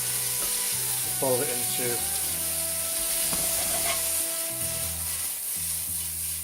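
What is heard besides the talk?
sausage meat frying in pan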